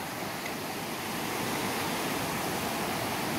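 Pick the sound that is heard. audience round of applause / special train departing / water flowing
water flowing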